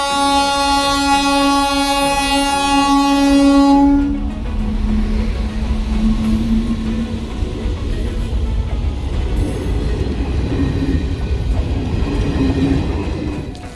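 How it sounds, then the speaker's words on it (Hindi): A passing train: a sustained horn blast sounds for about four seconds, then gives way to the loud, steady rumble and clatter of rail cars rolling past nearby, with no voices. "ये रेलगाड़ियां तमाम सपने लेकर लोगों को अपने गंतव्य स्थान तक लेके जाए"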